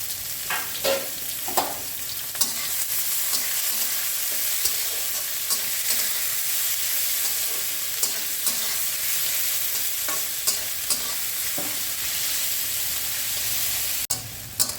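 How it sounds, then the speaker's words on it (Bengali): Finely chopped onions sizzle and crackle in hot oil in a pan for palak paneer, with frequent spatula scrapes and taps as they are stirred, loud and close, continuous and without talk. "পেঁয়াজটা মোটামুটি ভাজা হয়ে গেছে"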